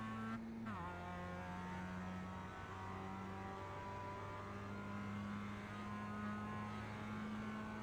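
Mazda MX-5 Cup race car engine at full throttle in a racing video game, a steady high droning rev held almost constant after a quick dip from an upshift, loud and continuous with no pauses.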